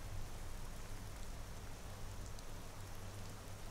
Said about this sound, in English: I love the sound of that rain.